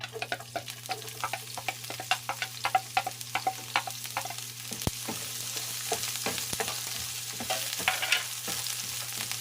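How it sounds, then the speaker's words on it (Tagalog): Sliced onion sizzling in a frying pan, a busy crackling hiss full of rapid pops and spits, close and fairly loud throughout. "ilagay ko na yung aking sibuyas"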